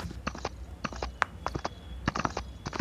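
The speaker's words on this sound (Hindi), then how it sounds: "वापस से घोड़ा गाड़ी निकालता हूँ" Horse-drawn cart hooves clip-clop steadily in the mobile battle royale game BGMI, a close, regular trotting rhythm of grouped hoofbeats heard alone without talk.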